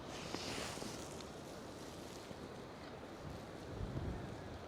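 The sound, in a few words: strong onshore wind at Bempton Cliffs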